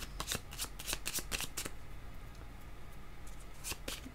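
Tarot cards being shuffled by hand before another card is drawn: a close series of crisp riffling bursts at the start, then softer card rustling, quiet and with no voices.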